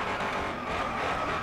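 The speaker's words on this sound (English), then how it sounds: "There we go, drifting around the corner." A video game car drifts around a corner during a race, with a loud, continuous engine roar and tyre skid lasting the whole short moment.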